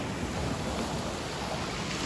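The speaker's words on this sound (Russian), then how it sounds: "Вот это море ее со штормом." Stormy sea at night by the Yalta embankment in Crimea, a dense, unbroken roar of surf and wind close to the microphone.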